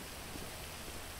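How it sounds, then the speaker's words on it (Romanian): Steady, even hiss of rain falling in a video game, soft and continuous with no distinct drops and no voices. "Mamă, început ploaia."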